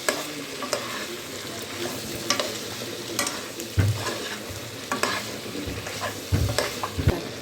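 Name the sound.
stirring Andhra chicken curry with chicken masala and green chillies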